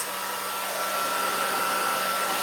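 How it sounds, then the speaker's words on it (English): A blow dryer runs steadily close by, drying wet paint, with a constant loud whooshing hum and a fixed whine, and no talk over it. "I'm going to start my blow dryer just a minute,"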